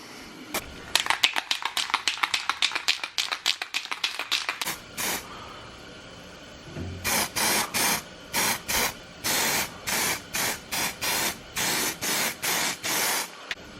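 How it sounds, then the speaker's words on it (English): Spray coating is applied inside a rusted Chevrolet Silverado fender in close, hissing aerosol bursts, first a quick stuttering run of short sprays, then a pause, then a steady series of longer evenly spaced blasts. "I'm going to coat the whole inside of this fender just like that."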